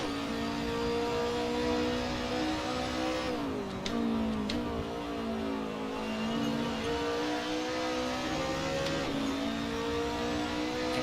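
Touring race cars lapping Bathurst in the Assetto Corsa racing game, a loud steady engine drone rising and falling through gear changes and revs, with other cars' engines blending in throughout and no talking.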